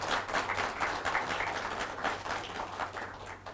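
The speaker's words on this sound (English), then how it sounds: "Can we have a big round of applause for sir?" Audience applause in a morning corporate talk session, steady broadband clapping from a crowd sustained throughout with no speech over it.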